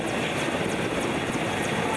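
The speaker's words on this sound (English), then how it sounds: "an Air Force helicopter carrying the First Lady, Margaret Kenyatta, lands." An Air Force helicopter comes in to land, a loud continuous rotor and engine roar with steady blade chop, close and dominant throughout.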